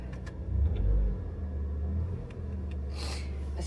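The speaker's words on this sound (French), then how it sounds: "je suis en train de faire chauffer ma voiture" A car engine idles while warming up on a cold day, a steady low rumble with a brief swell near the start, heard up close and without talk.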